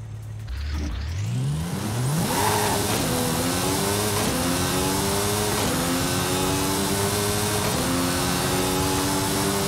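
A BMW 2002 in Forza Horizon 5 revs up and accelerates hard through several gear changes, its engine note climbing and dropping in a steady stepped pattern, loud and alone.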